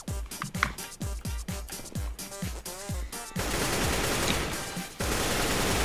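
Rapid bursts of automatic rifle fire in a Counter-Strike: Global Offensive competitive match, loud and close, with sharp repeated shots for about three seconds followed by a sustained dense roar of gunfire.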